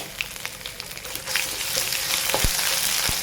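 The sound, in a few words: ginger garlic paste frying with onions for bhindi curry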